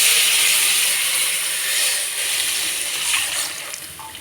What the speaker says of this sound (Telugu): కోకోనట్ మిల్క్, ఇవి వేసేస్తున్నాను.